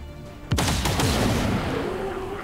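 Gunfire in XCOM 2: War of the Chosen, a sudden loud shot followed by a rolling burst of fire and a long booming tail.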